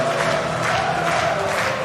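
A pool tournament crowd at the World Cup of Pool finals cheers and chants a song tune, a dense, loud roar of many voices with a faint sung melody running through it.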